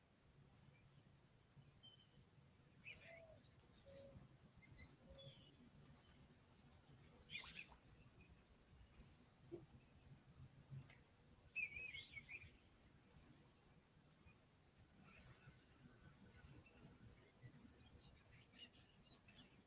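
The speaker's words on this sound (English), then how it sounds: "listen to the birds out there" Birds chirping outside: short, sharp bright chirps repeat every couple of seconds, faint and somewhat distant over a quiet low hum, with no talking.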